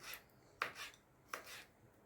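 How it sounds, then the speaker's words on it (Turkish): Two quiet, crisp knife strokes finely chop vegetables by hand on a board, spaced about a second apart, with soft scraping between them. "Şimdi ben böyle bunları minik minik elimde doğrayacağım."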